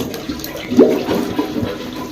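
A slow, sluggish flush in a home toilet with a fault that keeps it from draining properly, giving a short watery rush that swells and trails off, fairly close.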